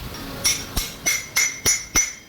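Six sharp metallic hammer strikes on a tool driving a clutch bearing into place on a Honda Click 125 scooter, at a steady pace, each ringing briefly, close by with no talking.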